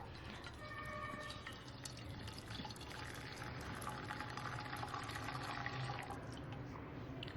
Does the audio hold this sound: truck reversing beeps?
no